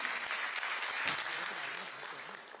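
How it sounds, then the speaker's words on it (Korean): Applause from a political party gathering, a dense, continuous wash of hand claps that stays steady, then slowly thins and fades, heard from some distance at a fairly low level. "박수 부탁드립니다."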